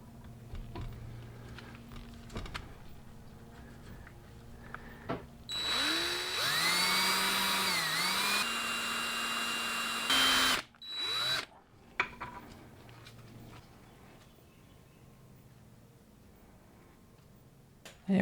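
A power drill bores a small hole through a cast pewter pendant for attaching hardware, a loud steady whine running several seconds, winding up and briefly dipping, then cutting off abruptly amid quiet workshop handling noise.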